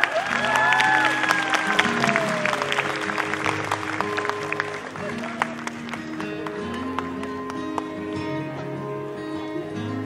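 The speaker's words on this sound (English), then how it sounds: "One more round of applause." Applause from the audience at a preschool annual day, scattered claps over background music and a cheer or two, moderate and fading slightly.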